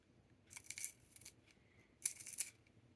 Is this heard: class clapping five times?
no